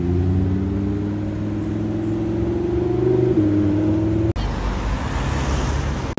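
Lamborghini Huracan Tecnica with its naturally aspirated V10 revving on a Luxembourg street, a loud, steady engine drone rising in pitch before cutting off abruptly into broad roadway noise and wind.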